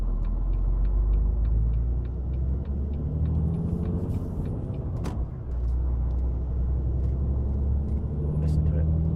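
A Volvo FH16 lorry with a 750 hp engine pulls 40 tonnes at full throttle, a deep steady diesel drone and rumble heard from inside the cab, with a regular ticking and a voice speaking briefly over it.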